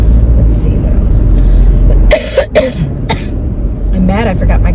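A woman coughs several times in short harsh bursts, close to the microphone, with a throat-clearing sound, while a car hums steadily in the background and she speaks between the coughs.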